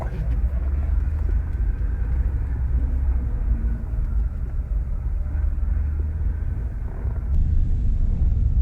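An MG ZT260 V8 drives along the waterfront road by Mevagissey's tidal harbour in Cornwall. A steady low engine rumble holds throughout from inside the car, and no voices are heard.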